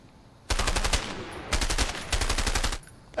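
A submachine gun in the video game A Way Out fires in two loud, sustained rapid bursts, each about a second long, separated by a short pause and heard alone.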